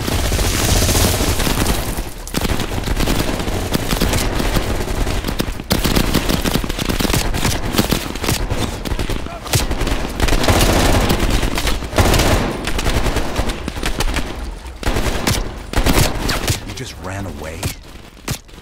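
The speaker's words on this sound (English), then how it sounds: "you woke up in the middle of a firefight" In the Call of Duty: Black Ops Cold War video game, a firefight rages with bursts of automatic gunfire and single shots in rapid, irregular succession, loud and dense, with occasional booms and a voice speaking over the fighting.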